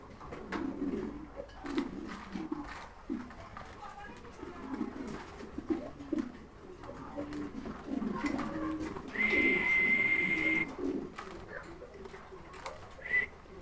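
A pair of jet-black Indonesian pigeons coo in soft, repeated low calls, close by, with some talk and a brief whistle-like tone mixed in.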